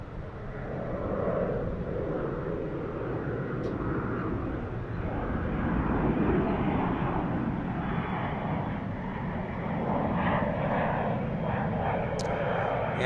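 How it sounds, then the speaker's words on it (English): An Embraer E175 jet departs from DFW airport with a steady, broad engine roar that holds across the whole stretch and swells slightly toward the end, heard from a distance without talk. "E175 departure right there."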